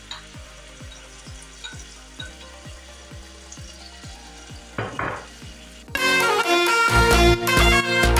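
Onion cooking in olive oil in a pan for bacalaito, starting with a series of regular knocks, then a short clatter, and ending in a loud, bright sizzle as the onion hits the hot oil.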